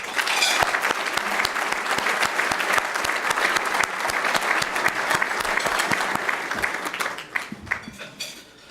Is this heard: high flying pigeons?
no